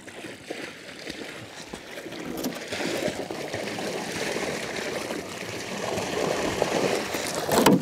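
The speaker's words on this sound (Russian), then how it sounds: "Спускаю немного воды." Water let out into a stocked sturgeon pond, a continuous trickling and sloshing pour that builds after a quieter start and stays close and moderately loud.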